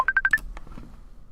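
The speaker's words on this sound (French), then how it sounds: "on a un appel de Lily Pompadour, avec qui on va parler" Incoming call on a live broadcast connecting with a quick burst of four DTMF keypad tones, close and clear, followed by a few faint clicks as the line opens.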